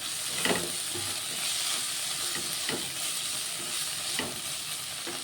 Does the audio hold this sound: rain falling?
no